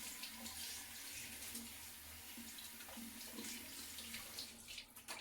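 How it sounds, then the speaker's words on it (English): Warm water runs steadily from a tap over a towel being washed in a sink, a quiet continuous splashing rush with soft irregular wet sounds throughout and no one speaking. "Now I'm just going to wash my towel with warm water"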